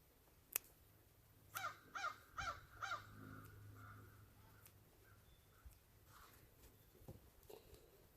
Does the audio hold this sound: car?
no